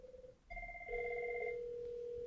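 Steady electronic tones from a dialed call on a Cisco UCME phone system, a short ringback beep followed by a sustained two-tone ring, faint and alone with no talking.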